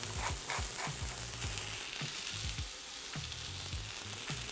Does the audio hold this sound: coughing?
no